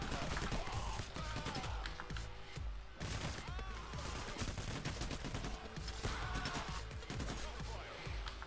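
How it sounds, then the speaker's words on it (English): Continuous assault rifle fire in Payday: The Heist, dense rapid bursts with overlapping shots running the whole stretch amid busy combat noise against cops, loud and close throughout. "I like this assault rifle. It's so much more accurate than AK-47."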